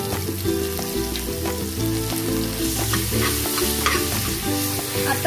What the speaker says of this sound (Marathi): आता आपण कोबी टाकून घेऊया।